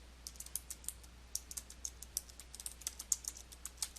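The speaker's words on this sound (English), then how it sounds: "Click at the point where you want to begin typing, and then type your text." Fingers type text on a computer keyboard, producing a quick, irregular run of light, close plastic key clicks over a faint steady hum, with no voices.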